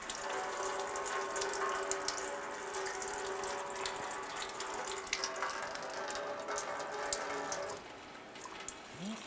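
Coolant from a 2007-2012 Nissan Versa radiator pours into a drain bucket, a steady close trickling and splashing stream that runs on and eases slightly near the end.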